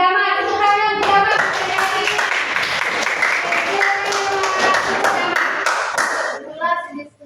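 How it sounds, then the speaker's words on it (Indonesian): Group Gama receives clapping from a classroom audience: a steady patter of hands with children's voices mixed in, fading out at the end. "Tepuk tangan untuk gama."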